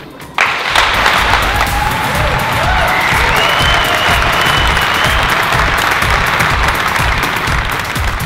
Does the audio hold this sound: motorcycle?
no